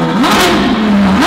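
A Novitec-tuned sports car rips through a loud, close exhaust rev, the engine pitch sweeping up, holding, then climbing again under aggressive throttle.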